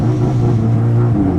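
A Nissan S13 drift car gives off a steady loud low drone and whine from its wheels and differential, continuous and close for the whole moment with no voices.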